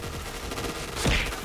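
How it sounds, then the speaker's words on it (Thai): Gunfire in a first-person shooter video game, a steady rattle of shots through the clip with a louder burst near the end, no talking. "ผมยิงไม่โดน"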